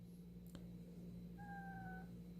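A cat gives a single drawn-out, steady meow, faint and indoors, over a constant low hum with no talking.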